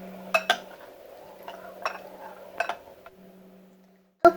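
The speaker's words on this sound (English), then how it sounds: "And give it a good stir." A butter horn roll mixture with a splash of milk is stirred in a bowl, with scattered light clinks and scrapes of a utensil against the rim and a sharper clank at the end.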